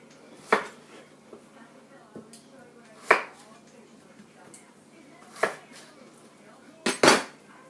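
Knife work on four small potatoes during peeling and cutting, giving a few separate sharp knocks of blade on board spaced a few seconds apart, the last a quick double, near and moderately loud against a quiet room.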